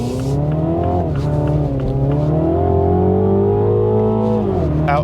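Mini Cooper JCW engine pulling hard under acceleration, a loud, steady rising drone with harmonic whine, heard from inside the car with no talking.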